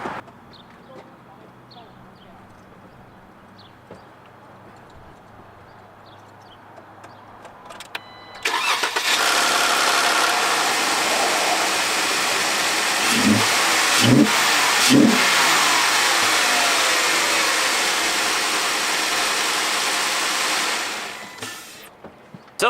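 A 2015 Jeep Wrangler JK fitted with an S&B cold air intake starts up near the microphone after a quiet stretch. It settles into a loud, steady idle, then gives a few short revs before shutting off.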